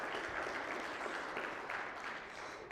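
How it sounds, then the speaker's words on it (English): Church congregation applauding, a dense steady clatter of many hands clapping throughout, fairly distant and even. "Let's give her a round of applause."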